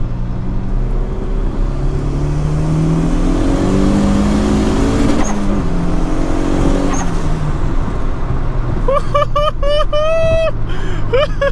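A turbocharged Honda Civic fitted with a turbo intake accelerates hard while racing a Miata, its engine climbing loudly through rising revs and shifts close in-cabin, with voices shouting over it near the end.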